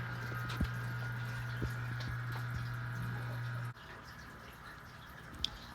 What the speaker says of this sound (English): You can see the liquid percolating up through the hole, the pump getting the liquid and delivering it to the nozzle up top here.